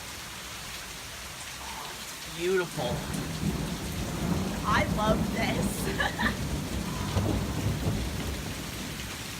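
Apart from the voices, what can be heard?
heavy rain downpour with thunder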